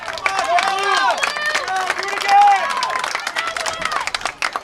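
Spectators at a girls high school soccer match between Bridgewater-Raynham and Attleboro shout and cheer together, overlapping raised voices rising and falling across a few seconds, fairly close and loud.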